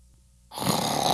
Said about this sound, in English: Ulysses S. Grant snored loudly in a carriage during a parade inspection.